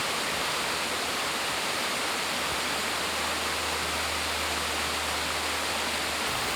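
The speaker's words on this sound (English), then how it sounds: "first waterfall that we came to was Tom Branch Waterfalls" Tom Branch Falls, a 60-foot waterfall near Cherokee, North Carolina, roars as a steady, dense wash of falling water, constant and close throughout with no voices.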